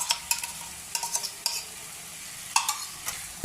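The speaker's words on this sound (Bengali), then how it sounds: "এরপরে এতে টক দইটাও দিয়ে দিচ্ছি।" Sour yogurt going into chicken frying in a pan, with a steady close sizzle and several sharp spoon scrapes and taps against the pan.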